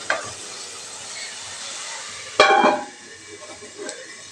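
Dried fish thokku sizzles steadily as it fries in a pan, with a brief scrape of stirring partway through, then a softer crackle. Close and fairly quiet, with no talking.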